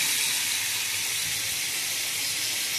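Hot oil hisses steadily in a pan for a tempering of mustard seeds, turmeric and curry leaves, a continuous bright sizzle that stays even and close throughout with no voices.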